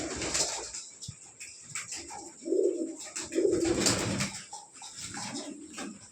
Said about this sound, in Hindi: देखिए, ये टाकी कबूतर है।